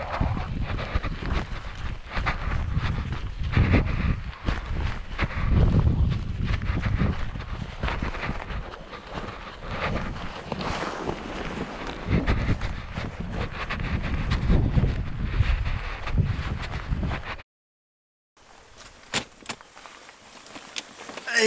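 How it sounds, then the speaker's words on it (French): Strong, gusty wind on a mountain summit buffets the microphone continuously, roaring loudly with brief lulls, then cuts out and resumes more faintly. "il y a quand même pas mal de vent"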